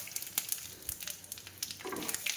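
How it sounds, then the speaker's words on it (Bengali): Panch phoron, dry red chilli and bay leaf crackle and sizzle in hot oil in a kadai, a steady close frying hiss broken by small sharp pops of spices throughout, with no talking. "কড়াইতে তেল গরমের মধ্যে আমি পাঁচফোড়ন, শুকনো লঙ্কা আর তেজপাতা ফোড়ন দিয়ে দিলাম"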